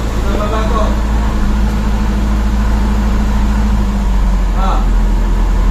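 A Toyota Corolla Altis 9th-generation car engine idles with a steady low hum that rises in pitch and loudness as the idle speed is adjusted up to about 2,000 rpm; a voice speaks briefly near the start and end.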